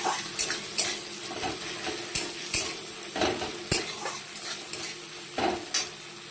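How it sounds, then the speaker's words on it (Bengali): Chopped onion frying in oil in a pan makes a continuous sizzle close by, broken by repeated sharp clinks and scrapes of a utensil stirring against the pan, with no voices. "এবার পেঁয়াজটাকে লাল লাল করে আমি ভেজে নেব।"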